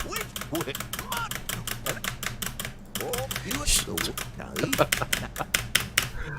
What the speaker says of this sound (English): all I hear is the clicking of your keyboard.